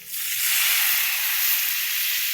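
Water poured into a hot pan with turmeric and salt, giving a loud, steady sizzling hiss that starts abruptly and continues unbroken, close and alone.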